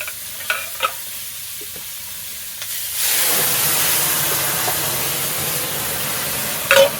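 Water poured into a hot pan of spiced vegetables with turmeric and salt bursts into a loud, steady hissing sizzle after a few quiet clinks and taps, close by.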